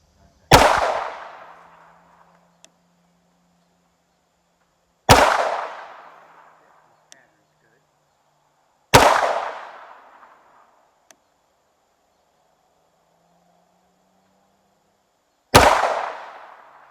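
Four sharp, loud 9mm shots from a Tisas PX 9 pistol with 124 grain SIG V-Crown ammunition, fired slowly several seconds apart at an outdoor range, each crack followed by a short echoing decay.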